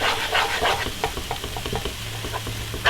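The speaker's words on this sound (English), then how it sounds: "But now you mix the chicken in." Chopped chicken is mixed with soy sauce for egg roll filling, giving close, wet squelching and rhythmic stirring scrapes that continue steadily throughout, with no talking.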